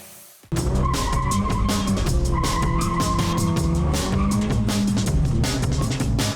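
Toyota Vios race cars on a circuit during qualifying time trials, a loud, steady engine roar with tire skidding and squeal kicking in abruptly after a brief quiet start and running continuously.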